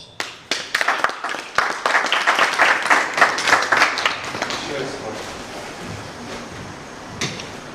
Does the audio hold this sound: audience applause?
yes